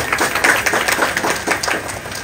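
Clapping from a small crowd at a first birthday celebration, a steady patter of hands that stays fairly soft and even throughout, close by with no talk over it.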